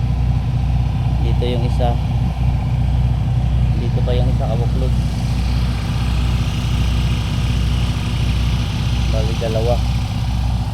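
Two engines of a boat idling, a steady low mechanical drone with a constant rhythmic throb that stays even throughout, while someone talks over it in short phrases.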